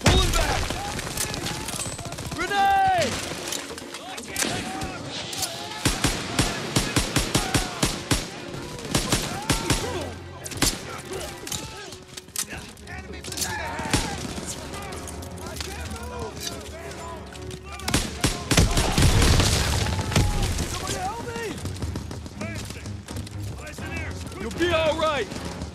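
WWII battle gunfire in Call of Duty: WWII, with rapid machine-gun bursts, rifle shots and crashing impacts going almost nonstop, loud and close, while soldiers shout orders over the fighting.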